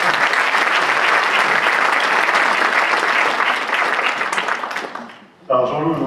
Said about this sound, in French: que je vous propose d'applaudir pour l'encourager